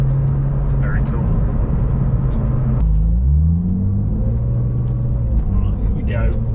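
A Porsche 911 996 GT2 Clubsport engine pulling from inside the car as it heads onto a dual carriageway, a loud deep droning rumble that dips at a gearchange and then climbs steadily in pitch, with no talking.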